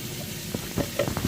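Sliced bitter gourd frying in a pan, a soft steady sizzle with a few faint stirring clicks close by.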